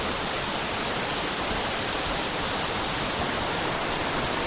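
Balagbag Falls, a waterfall in Real, Quezon in the Sierra Madre, roars in a steady, dense, unbroken rush of water that stays loud and even throughout, with no voices.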